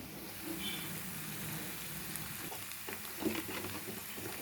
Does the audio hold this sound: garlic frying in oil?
yes